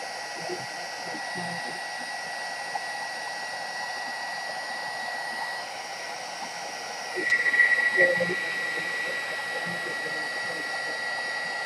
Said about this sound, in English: this heat tool seems to be just a smidge louder than the normal one